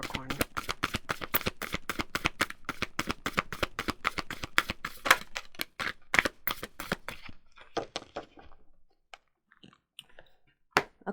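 A deck of oracle cards being shuffled: rapid, crisp riffling clicks in a dense rhythmic burst, then slowing into scattered, sparser taps and slaps close to the microphone.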